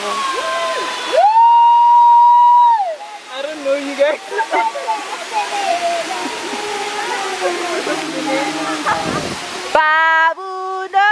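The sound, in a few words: waterfall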